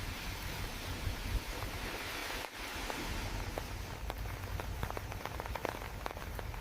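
Steady rain falls on wet ground in a Swiss alpine village, a continuous dense patter with scattered nearer drops and a faint breath of wind throughout.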